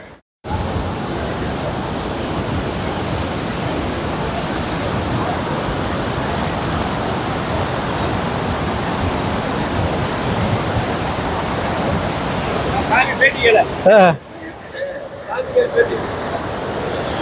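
Water rushes steadily into Vellalapuram lake near the Sarabanga river at Pachaliyur, a continuous broadband roar up close that breaks off near the end as brief voices and handling noises take over.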